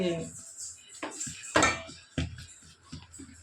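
Ladle scraping and knocking against a pot while idiyappam dough is stirred, a few close metallic clanks and scrapes in an uneven rhythm with a faint voice behind.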